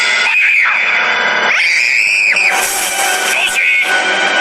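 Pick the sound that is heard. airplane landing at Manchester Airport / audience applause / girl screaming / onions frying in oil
girl screaming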